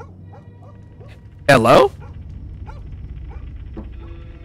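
A dog in Fears to Fathom gives one loud, close bark-like yelp in the middle, set against a quiet room tone with someone speaking briefly around it.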